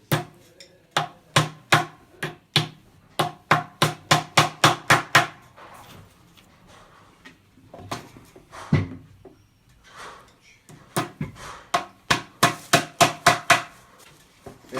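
Decorative studs are hammered into the rim of a bodhrán, with quick runs of sharp, ringing taps in bursts separated by short pauses, close and clear with no talking.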